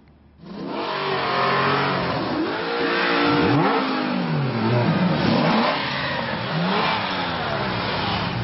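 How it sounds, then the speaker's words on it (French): Luxury sports car engines roar and rev loudly, rising and falling in repeated sweeping surges that sound close and continuous for several seconds. "Des moteurs qui rugissent et des silhouettes vendues telles des pièces de collection."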